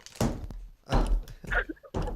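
Headphones fall and bang around during a live podcast, a few heavy dull thunks at close range, irregularly spaced, with a voice heard briefly among them.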